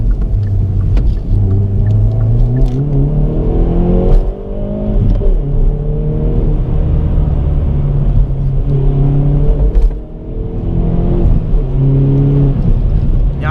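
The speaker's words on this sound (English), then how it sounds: "that is quite a nice exhaust tone that this car has" A Hyundai i30 N Performance accelerating through the gears, its exhaust note rising in pitch in repeated sweeps with brief drops at each shift, loud and close from inside the cabin, with no talk.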